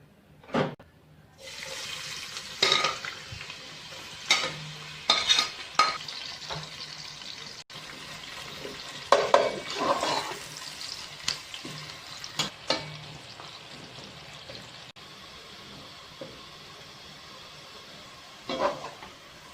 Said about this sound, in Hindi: अब हम इसमें 2 मीडियम साइज के प्याज, जिसे मैंने बारीक काट लिया है, अब हम इसे फ्राई करेंगे